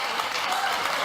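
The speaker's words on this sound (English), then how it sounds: "I feel like the applause is getting louder." A television studio audience applauds in a steady, dense wash of clapping. The applause runs unbroken through the whole moment.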